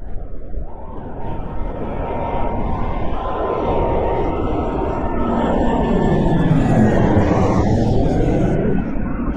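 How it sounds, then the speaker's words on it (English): A Delta airliner comes in to land, turned slightly sideways in a crosswind, its jet engines a steady loud roar that swells and shifts in pitch as it passes overhead. "Delta coming in for a landing."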